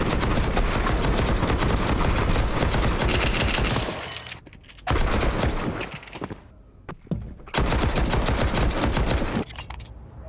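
Dense, rapid automatic gunfire rattles almost without pause in a Counter-Strike match, GamerLegion versus FURIA, broken by a few short lulls before the volleys resume loudly.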